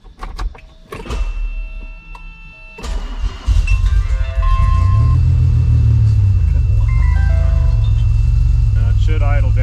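A DeLorean engine cranks and catches, then settles into a steady loud rumbling idle after some clicks and whirs from the car's electrics, with people talking nearby.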